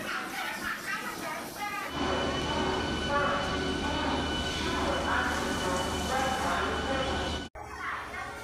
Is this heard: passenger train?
yes